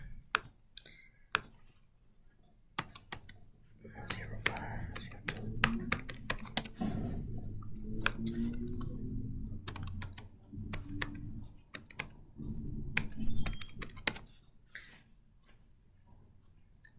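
Student typing a number or email address on a computer keyboard, bursts of clicky keystrokes in quick runs separated by pauses, fairly close, with a low murmur of activity in between.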